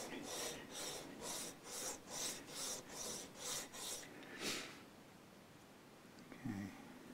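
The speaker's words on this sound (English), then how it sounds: "It's quite difficult to sand this material." Close, steady sanding strokes on the material of an Aria Pro II hollow body guitar during a setup, about nine rhythmic rasping passes that stop, followed by a quiet pause and a brief soft knock.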